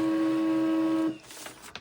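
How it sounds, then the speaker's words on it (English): A Pantum P2502W black-and-white laser printer runs a print job with a steady mechanical whine that cuts off abruptly, leaving faint clicks and rustles. "after a couple of seconds, your picture, your document, or something else is printed by that printer"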